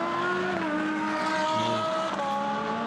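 Lamborghini Gallardo GT race car at Monza during pre-qualifying, its high engine tone shifting in pitch as it passes, loud and sustained, with a brief tire squeal.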